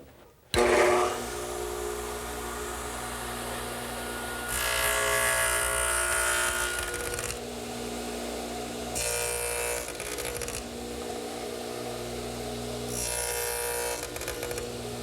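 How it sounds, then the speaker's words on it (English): A radial arm saw fitted with a dado head cutter hums steadily against a high fence while notching wooden partitions for a hanging cleat. Three louder, harsher cutting bursts rise over the constant motor drone. "While the dado head cutter is still in the radial arm, I'm going to make a notch in the partitions for a hanging cleat"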